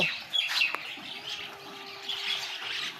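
Common myna birds squawk and chirp in scattered calls outdoors where a flock gathers daily for food, moderately near over a soft ambient background.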